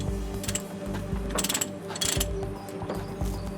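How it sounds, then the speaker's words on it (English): Chains being ratcheted on a historic steam engine at a gala, a steady mechanical clatter of pawl clicks and metal knocks over a low rumble, with a few louder bursts of clanking. "The team ratchet the chains and lever the wheels to get it moving."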